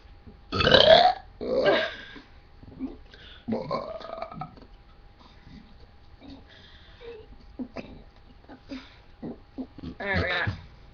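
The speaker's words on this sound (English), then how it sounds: "more big burp" Loud, long burps in a burping contest, a deep rumbling belch up front and another near the end, with people talking and laughing in between.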